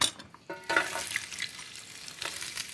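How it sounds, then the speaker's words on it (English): Carrots cooking in two tablespoons of extra virgin olive oil in a large skillet, a steady close sizzle broken by a few scraping stirs, with a brief sharper clatter early on. "heat 2 tablespoons of extra virgin olive oil and cook the carrots in that pan"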